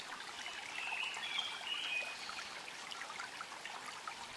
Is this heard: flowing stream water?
yes